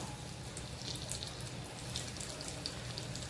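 Bitter gourd slices dropped into hot oil in a kadai on a gas stove, a steady close sizzle and crackle of frying with fine popping bubbles throughout.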